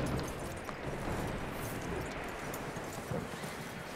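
Horse hooves clip-clopping with a whinny in the Red Dead Redemption 2 video game, quiet and steady against soft background ambience with no talking.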